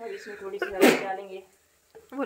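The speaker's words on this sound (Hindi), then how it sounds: "मुझे छींक आ गई।" A single sharp, close sneeze bursts out from a person in a village kitchen during cooking, with talking just before and after it.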